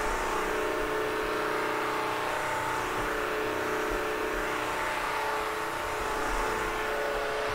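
A Bissell CrossWave Cordless Max vacuum mop runs steadily with a loud, continuous motor whir and hum that holds nearly unchanged throughout, with no talk over it.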